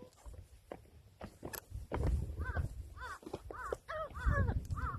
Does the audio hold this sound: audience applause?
no